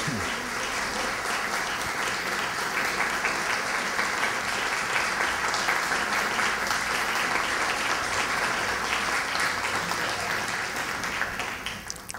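A crowd at a formal municipal ceremony in Miraflores honoring a citizen gives sustained applause, a steady wash of clapping that lasts about twelve seconds at moderate volume.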